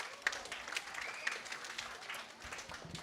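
At a fifth-grade moving-up ceremony, the audience gives a fairly faint, scattered round of applause, a few sharper individual claps standing out against a soft wash of clapping in a large room.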